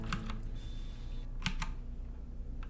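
Computer keyboard keys tapped while solving a Sunday crossword, with quick clustered bursts of clicks and pauses between them, close and moderately loud over a steady room hum.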